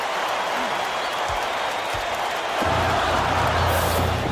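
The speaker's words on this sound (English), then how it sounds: "Listen to the crowd burn." A college basketball arena crowd roars steadily throughout, a dense continuous wash of cheering that swells louder in the second half, with a low rumbling hum underneath.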